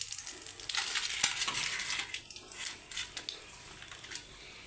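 Whole dried chili, cumin, cardamom pods, a cinnamon stick and a bay leaf fry in hot oil for a chicken curry, giving a faint, crackling sizzle with small spitting pops and a light scrape of stirring.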